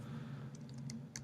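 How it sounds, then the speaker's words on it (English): Keys tap on a computer keyboard in a quiet room, a short burst of several light, irregular clicks played close and faint during text-editor typing. "if you just start typing random things"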